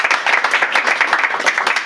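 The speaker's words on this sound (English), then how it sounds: "So first, a round of applause." A small audience at a business association annual general meeting claps in a steady, dense patter of mixed hands, fairly near and continuous, with no talk over it.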